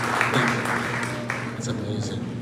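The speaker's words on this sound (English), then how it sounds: "can we give them another round of applause?" An audience at a John Birch Society talk claps for another round, a dense patter of applause with a voice speaking over it.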